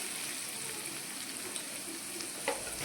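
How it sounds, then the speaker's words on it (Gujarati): Whole dry red chillies, bay leaves, curry leaves and garlic sautéing in hot oil, a continuous bright sizzle with faint stirring scrapes, no voices. "અને હવે આખા સુકા મરચાં ઉમેરી દઈશું તમાલપત્ર મીઠા લીમડાના પાન લસણ ને બધું આપણે સાતળી લઈશું આવી રીતે"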